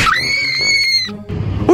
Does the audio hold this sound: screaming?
yes